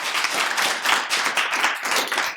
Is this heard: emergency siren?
no